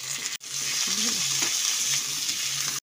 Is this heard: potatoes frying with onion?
yes